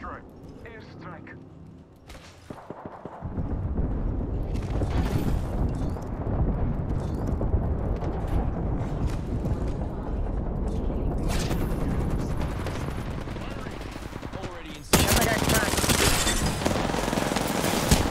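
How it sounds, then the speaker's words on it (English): An airstrike in the Apex Legends video game pounds down as a dense, sustained rumble of explosions and gunfire, loud and continuous from about three seconds on, with a fresh burst near the end and player voices over it. "Signaling an airstrike. Airstrike."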